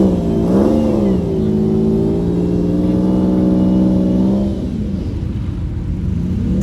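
A Lamborghini climbs a steep parking garage ramp, its engine droning loud and steady with a brief rise in revs early on, then easing to a lower rumble near the end; no talking.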